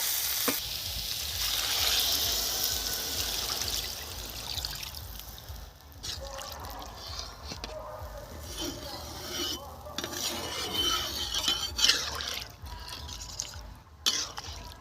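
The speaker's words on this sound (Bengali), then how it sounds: "এখন জল ঢেলে দেবো" Water poured into a pan of village-style curry cooking in oil, a steady frying hiss with stirring and clatter, brief trickling and bubbling bursts, close and moderately loud.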